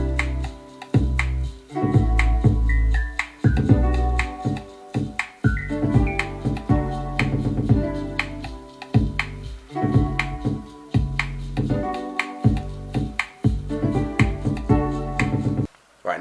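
Homemade beat built from household objects with an 808 shaker layered over all the other instrument tracks, a steady looping rhythm of sharp snappy hits and tonal percussion, loud and continuous with no talking.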